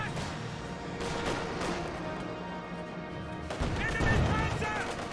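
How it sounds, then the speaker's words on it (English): An MG34 machine gun fires in Company of Heroes 2, with sharp bursts and impacts over a dense wash of battle noise and distant explosions, heard under a voice talking. "Pins the conscripts down with the MG34."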